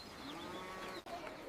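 Cattle lowing in a single drawn-out moo of about a second and a half, close and clear over faint farm background.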